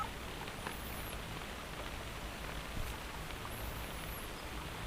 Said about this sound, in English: Seriously, it stopped raining, and then it started raining again.